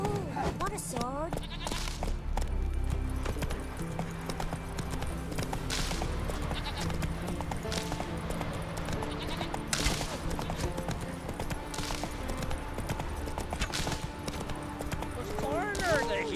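Horse hooves clip-clop steadily while riding in The Witcher 3 Next-Gen video game, a continuous rhythmic beat under music and other game sounds, with brief bleating or neighing animal calls.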